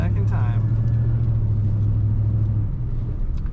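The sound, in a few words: 1974 Chevrolet C20 truck engine starting and idling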